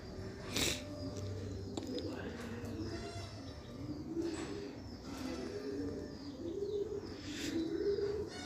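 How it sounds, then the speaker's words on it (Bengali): Pigeons coo softly and repeatedly in an afternoon loft setting, with occasional brief bursts of wing flapping and a few chirps, moderately near, and no talk over them. "দেখো ধানা ঝাপটাচ্ছে মাঝে মাঝে, আবার ঘর থেকে কিছু পয়রা বেরোচ্ছে।"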